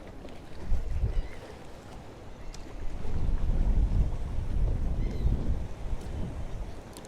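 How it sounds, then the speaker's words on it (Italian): Morning wind over a lake, a low rumbling gust noise with soft water movement, swelling and easing in waves at moderate level. "Vi faccio sentire un po' il lago la mattina."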